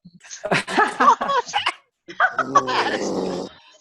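A dog growls and yips over a Zoom call during an online networking evening, in two close bursts separated by a short pause, with faint speech mixed in.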